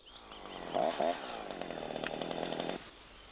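A chainsaw starts with a rough sputter, then revs up into a loud, buzzing whine that holds steady for about two seconds before cutting off abruptly, heard close up with no talking.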